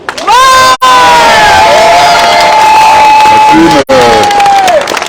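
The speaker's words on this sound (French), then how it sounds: "Donc on va faire une petite répétition à 1, 2, 3, vous allez applaudir" A crowd at a boat christening erupts on cue into loud cheering and shouting with applause, high voices holding long whoops, briefly cut off twice.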